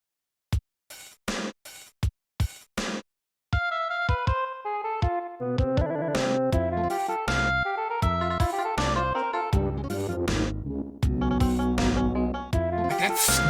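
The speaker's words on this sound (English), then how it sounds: "Can you believe that once upon a time, Moogle music used to sound like this?" Old Moogle music from the Final Fantasy: Crystal Chronicles video game, opening with a few sharp percussive hits and pauses, then a bright tinkling melody over bouncy accompaniment, moderately loud with no talking.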